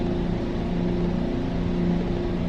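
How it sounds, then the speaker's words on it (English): Loud wheel cleaning: a steady, droning mechanical hum with a sustained tonal whine runs unbroken and close, with no talking over it. "That is crazy loud. Wow. I think that's the wheel cleaning."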